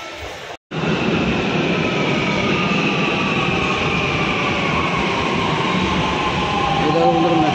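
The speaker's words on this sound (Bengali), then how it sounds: "দেখো বন্ধুরা, মেট্রো চলে এলো" A Mumbai metro train pulls into the station with a loud, sustained rumble and rising whine that grows steadily louder. A brief cut comes near the start, and a faint squeal rises at the end.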